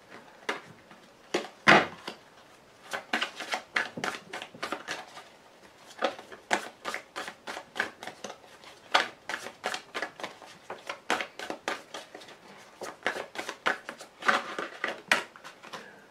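Playing cards are shuffled and dealt for a five-card hand, a long run of quick, crisp riffling and snapping flicks coming in close, irregular bursts with brief pauses, with no talking.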